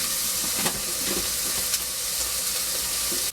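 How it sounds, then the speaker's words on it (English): Onion and garlic frying in a pan, a steady close sizzle and hiss with occasional crackles and the soft scrape of stirring, with no talking. "We just turn it around and we just add the garlics on top of the onion."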